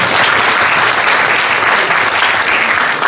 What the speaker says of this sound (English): Can we clap again? Like one more time?